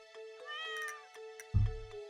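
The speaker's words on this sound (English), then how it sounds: "You see this cat here?" A stray cat in the video game Stardew Valley gives a clear short meow over a soft melodic game tone, followed by a brief dull thump near the end.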